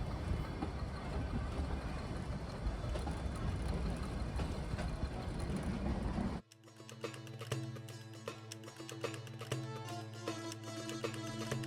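The Ooty to Coonoor toy train runs along its mountain line, a loud rumbling roar of wheels and carriages that cuts off abruptly partway through to a quieter, steady mechanical hum with rattling and clicking.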